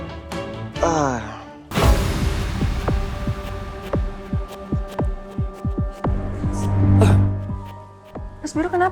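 A heartbeat sound effect pounds in a steady, fast double-thump rhythm across most of the scene, loud and close, with soft dialogue and ambient music in a TV drama.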